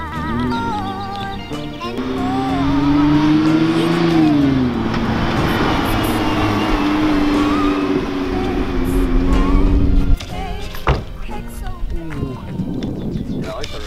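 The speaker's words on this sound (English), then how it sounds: "this is an amazing 2017 Nissan GTR" A 2017 Nissan GT-R arrives nearby, its engine note rising and falling through several revs and holding a steady drone, with people talking over the sound.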